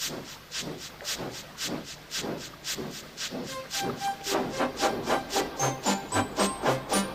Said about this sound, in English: Steam began to hiss from his safety valve in an alarming way.